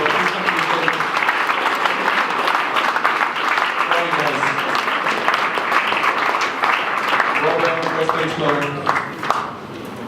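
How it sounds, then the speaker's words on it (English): Applause from an audience for pitch finalists at a startup pitch event, sustained clapping running the whole time while a voice speaks over it. "Please give a big round of applause for number 5 and 4, Welbayom, Mektory."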